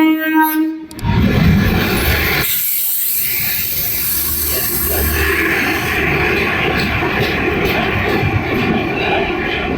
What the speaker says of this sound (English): Comes the mighty Bag 9 locomotive.